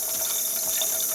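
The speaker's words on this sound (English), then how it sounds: "You can see it's doing a good job of sucking the water" A DeLonghi Magnifica S coffee machine draws water up through its milk carafe with a steady, hissing, gurgling rush of liquid that holds close and even from start to finish.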